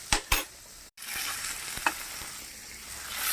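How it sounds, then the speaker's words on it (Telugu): Tomato and onion frying in a pan, a steady close sizzle with a few sharp stirring scrapes near the start and another midway, plus one brief break in the sound. "ఆనియన్, టమాటో ఇవన్నీ వేగుతున్నాయి కదా."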